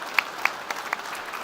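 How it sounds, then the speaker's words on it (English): Scattered hand claps from an audience at a Suzuki motorcycle presentation at EICMA, a few sharp distinct claps over a thin crowd ambience, fairly light rather than a full ovation. "Please give them a massive round of applause for their hard work and what they've achieved this year."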